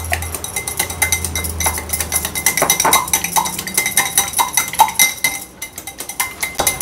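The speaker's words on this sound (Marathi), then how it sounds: "ही अंडी आपण फेटून घेणार आहोत।" Two eggs beaten in a bowl for chicken cheese stuffed chilli pakodas, a busy run of rapid metallic clinks and taps against the bowl, fairly loud and continuous with no voice.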